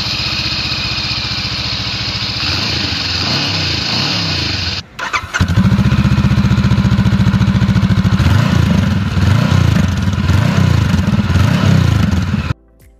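A Honda CB500 Hornet motorcycle idles with a steady mechanical rumble, cuts out briefly, then restarts and idles again, blipping the throttle a few times, loud and close.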